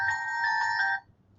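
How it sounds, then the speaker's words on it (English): A mobile phone ringtone plays a bright electronic melody of sustained beeping tones for about a second, loud and close, then cuts off abruptly. "sorry. Gotta update my ringtone."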